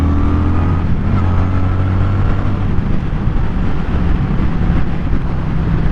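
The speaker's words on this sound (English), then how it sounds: "One last acceleration." A 2025 Honda Shadow Phantom 750 cruiser motorcycle accelerates, its engine rumbling loudly and steadily with rising tones, heavy wind buffeting the microphone throughout.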